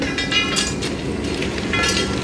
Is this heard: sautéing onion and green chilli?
no